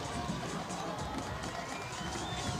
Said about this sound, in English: Crowd starting to just again pick up.